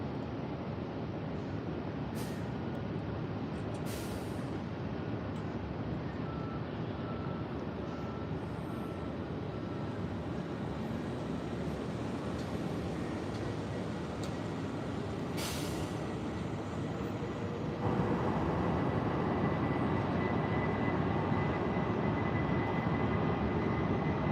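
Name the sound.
JetBlue airliner on its takeoff roll at Tampa airport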